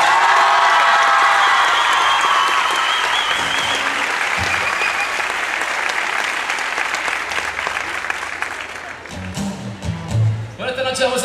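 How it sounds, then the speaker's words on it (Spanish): Concert crowd giving a loud ovation to the band, dense clapping mixed with cheers and whoops that gradually thin out, ending with scattered shouts and a voice near the close. "Quiero tener un fuerte aplauso a mi banda"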